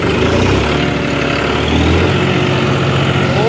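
An American 4x4 tractor engine runs steadily at close range during a road test drive, a continuous loud low rumble with a slight rise in pitch partway through, no talk over it.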